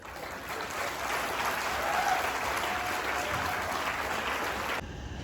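A seated audience at a Safe Shop SPS training program in Kashipur claps steadily, a dense, even wash of applause that holds for several seconds before easing off slightly near the end.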